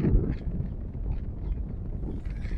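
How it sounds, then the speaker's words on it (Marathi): Strong wind buffets the microphone aboard a ship at Kandla Port, a loud, continuous low rumble with gusty swells and no clear talk. "खूप जास्त वारा आहे"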